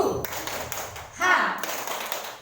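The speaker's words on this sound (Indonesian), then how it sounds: "Tepuk semangat." An audience in a school training session doing a rhythmic spirit clap, a quick run of sharp, close hand claps and taps, with a person speaking in the middle.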